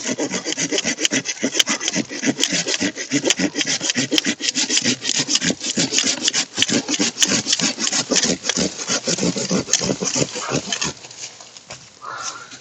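A hand saw cuts through wood in fast, steady back-and-forth strokes, loud and close, easing off and stopping near the end.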